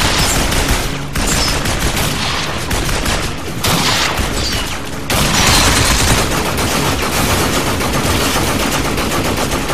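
Heavy automatic gunfire in a Binary Domain cutscene: loud, sustained bursts of rapid shots from several weapons, with one brief lull before the firing swells again, close and continuous throughout.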